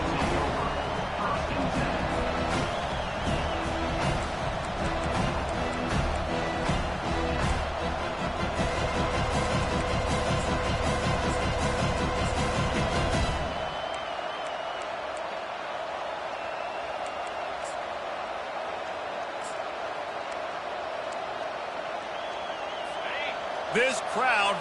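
Roaring stadium crowd in a college football video game, a loud broad wash of cheering that swells through the first half, then drops to a lower, steadier crowd rumble while a commentator keeps talking over it.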